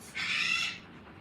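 A pet bird named Kiwi gives a single loud, raspy call lasting about half a second, close to the microphone, followed by quiet room tone with no talking.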